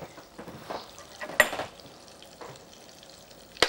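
Onions frying in a pan, a soft sizzle with a few stirring scrapes and a sharper clink partway through, quiet and close.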